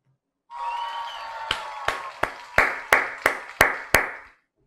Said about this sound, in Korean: 이분들께 경의의 박수 부탁드립니다